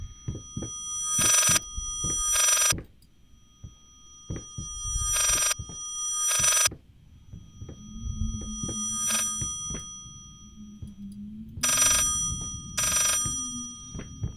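An old telephone in the horror video game Layers of Fear rings loudly in paired bursts, repeating three times with low rumbling ambience between rings.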